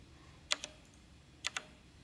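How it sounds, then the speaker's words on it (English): Keys on a computer keyboard are struck in two quick pairs of crisp clicks about a second apart, close and clear against a quiet room. "If I type Q1 enter"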